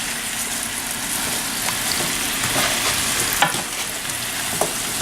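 Apples fry with brown sugar in a pan over medium heat, giving a steady close sizzle with occasional small pops and stirring clinks, no talking.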